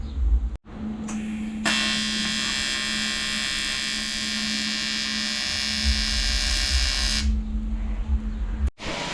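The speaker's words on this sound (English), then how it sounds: "Finishing off welding up the turbo housing" Welding on a turbo housing for a car build, a loud, steady electric buzz with a constant hum that starts abruptly, runs for several seconds, then cuts off.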